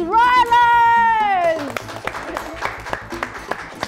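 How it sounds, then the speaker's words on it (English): After a sung or voiced tone fades, an audience claps steadily at a children's school spelling competition on a TV quiz show as the day's champion is called forward. "Another round of applause."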